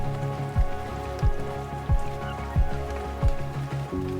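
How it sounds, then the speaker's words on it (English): A full-on heavy rain downpour in Bali, right after surfacing from a dive, hisses steadily close by, with a low rhythmic whoosh repeating about every half second beneath the rain. "When we surfaced, it was a full-on downpour."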